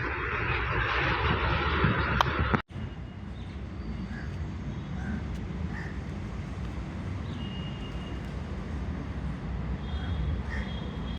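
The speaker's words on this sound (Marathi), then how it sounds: "आली मेट्रो आली मेट्रो आली" A Pune metro train arrives with a broad, steady rumble and whoosh after a sharp handling knock, continuous and moderately loud at a middle distance.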